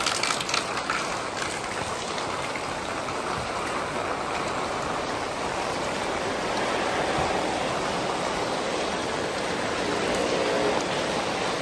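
Rain falls steadily over an urban village in Xi'an, a dense, even hiss of drops striking surfaces that carries on unbroken throughout.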